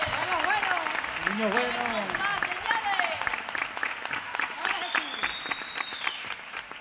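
Loud, sustained applause from a concert audience for a flamenco percussionist at a Christmas zambomba, with shouts and voices calling out over the clapping throughout.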